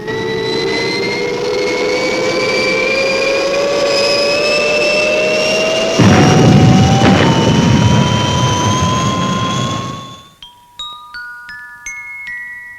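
The spacecraft XL1 from the Fireball XL5 series takes off at full power, a loud whining jet roar rising steadily in pitch with a burst of extra thrust, before it cuts off and a series of electronic tones follows.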